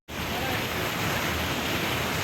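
High-pressure water rushes through an outlet after rain, a dense, loud, continuous roar that starts abruptly and holds steady, close by with no talk.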